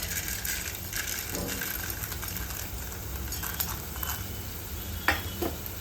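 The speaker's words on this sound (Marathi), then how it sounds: "डाळवं पण छान भाजून घ्यायचे तेलावरती" Roasted chana dal frying in oil for poha chivda, a steady crackling sizzle with stirring scrapes and a few sharp clatters of the spoon against the pan near the end.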